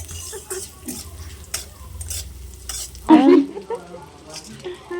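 Semolina upma cooking with mustard seeds and curry leaves in a pan, a spoon stirring and scraping over a soft sizzle, then a louder clatter of the pan partway through.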